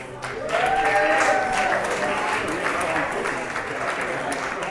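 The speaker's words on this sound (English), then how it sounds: "but an applause does help." Guests at a chamber of commerce gala give a short burst of applause, moderate clapping rising quickly and holding steady, with a voice speaking over it.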